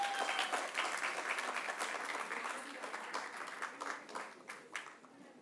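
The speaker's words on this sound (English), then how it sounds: "Can we please have a huge round of applause?" Audience applause at a children's radio awards ceremony, a dense patter of many hands clapping at a moderate distance that slowly thins and fades over several seconds.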